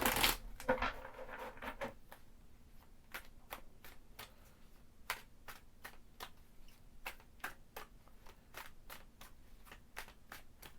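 A tarot deck is shuffled and cards are pulled: a short burst of rustling riffle at the start, then a long string of regular crisp clicks and taps, close and quiet, with no speech.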